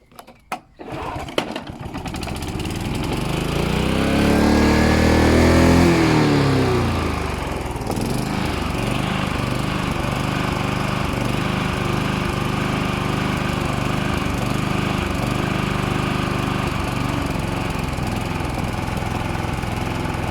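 A small Hunter petrol lawn mower engine runs steadily and loudly, its pitch rising and falling as the speed surges and hunts unevenly, with no talking.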